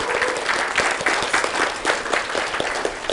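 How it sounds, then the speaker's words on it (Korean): Applause breaks out among attendees at a meeting of successful insurance exam candidates, a lively, close crowd of clapping hands with uneven sharp claps, sustained throughout without speech. "일단 박수 한번 쳐주시죠"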